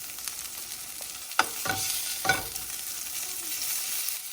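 Hoisin-glazed salmon sears in a hot pan with a steady close sizzle, broken by a few sharp scraping or stirring movements around the middle.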